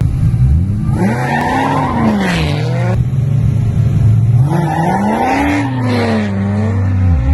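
A Toyota Supra and a Corvette ZR1 drag race from a traffic light in Mexico, engines roaring loud and close with rising and falling revs through gear changes, joined by tire squeal.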